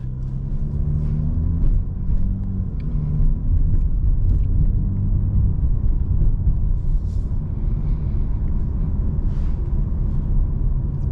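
A tuned 2017 Mercedes-AMG GT with upgraded turbos rumbles along a city street in Midtown, a deep steady engine drone heard from inside the cabin with light surges and road noise throughout.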